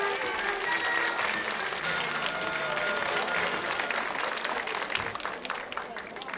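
Loud, sustained applause fills the hall as the audience of a ventriloquist's puppet show claps hard for the puppets, a thick wash of clapping from start to finish.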